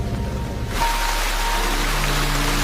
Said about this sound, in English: walking through heavy rain as thunder rumbles